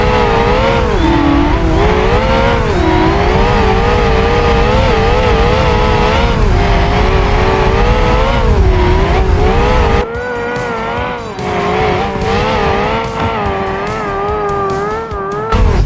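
A six-wheel off-road Pigeon vehicle in the BeamNG driving game roars with a loud, continuous engine drone that rises and falls in pitch as it accelerates, with a brief dip in the engine note near the end.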